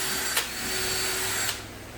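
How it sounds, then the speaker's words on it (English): A Ryobi drill driving screws into a wooden flag build: a steady, close motor whir running throughout, with two brief sharp ticks where the bit bites, and nobody speaking. "screwing this down like we did the sides. The trusty old Ryobi."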